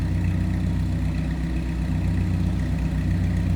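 A rebuilt 2.2-liter straight-four Go Devil engine in a 1949 Willys Overland Jeepster idles steadily through its complete exhaust, heard from the rear with an even, low, rhythmic putter and no talking.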